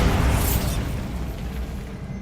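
Bombarda spell blast cast in the Hogwarts Legacy video game, a loud booming explosion that bursts at once and then rumbles on in a long, dense low roar that slowly fades, with no voice over it.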